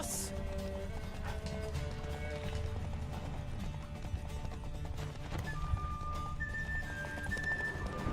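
Horse hooves pound in a steady galloping rhythm in The Witcher 3 video game, quiet and continuous over background game music.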